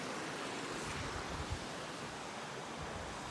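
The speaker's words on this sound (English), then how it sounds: "it's next to a good river and a small series of waterfalls as well" A river with a small series of waterfalls rushes nearby, a loud, steady broadband roar of churning water that fills the whole stretch without a break.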